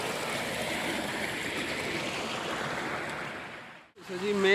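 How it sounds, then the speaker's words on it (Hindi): Water runs out of a garden pond through a small drainage channel in a Mughal garden at Wah Cantt, making a steady close rushing babble that cuts off abruptly near the end before a voice starts. "मेन तालाब से जो पानी निकल रहा है"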